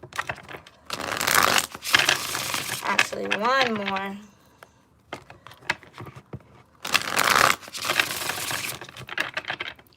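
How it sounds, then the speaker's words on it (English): Bursts of rapid riffling and slapping as a deck of tarot cards is shuffled twice, with a brief spoken phrase between them. "All right, last shuffle."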